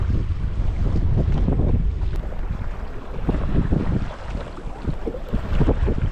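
Wind buffeting over a sailboat in transit on open water, a continuous low rushing roar with microphone gusts and water wash, steady and close, with no voices.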